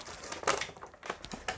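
Plastic bags crinkle and rustle while a student welcome box is unpacked, a few short bursts of crackling, close and moderately loud, with no talking.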